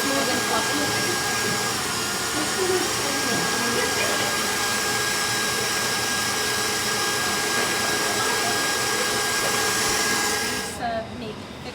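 An electric mixer whisks eggs and sugar for a Christmas log cake batter, giving a loud, steady whirring drone that runs for about eleven seconds before it cuts off.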